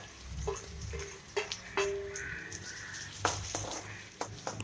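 Chopped shallots and three dried red chillies fry in hot oil for a drumstick leaf curry, giving a soft, steady sizzle with scattered light crackles, ticks and occasional utensil clicks, quiet and close.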